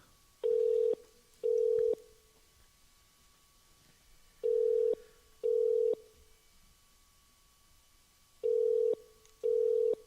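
Telephone ringback tone on a call transferred to a hotel: three pairs of short rings, each pair followed by a pause, fairly faint and with no talking.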